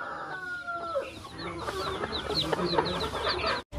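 Native country chickens clucking and chirping in a group outdoors during a light drizzle, with short overlapping calls and a faint rooster-like tone early on, moderately near.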